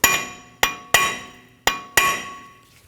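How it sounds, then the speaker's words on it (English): A metal punch is struck to break seized front brake bolts free on a 2011-2018 Volvo S60, giving five sharp ringing metallic taps with short decays, unevenly spaced and close. "sometimes you can grab a punch, just give it a couple taps"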